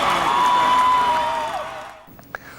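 A big crowd at the 1997 Newcastle Knights grand final celebration parade on King Street roars in a sustained loud wash that fades out, followed by a few faint scattered sounds.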